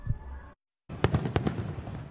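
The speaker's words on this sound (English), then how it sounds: "Tonight, fireworks lit up the night sky over Angel Stadium" Fireworks burst over Angel Stadium at night, a distant rumble, then a short silence followed by a quick series of sharp pops and crackling bangs.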